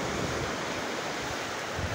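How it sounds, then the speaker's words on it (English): Ocean waves on a beach make a steady, close, full wash of surf and rushing water with no voices over it. "I love it out here at this beach. This is really wavy."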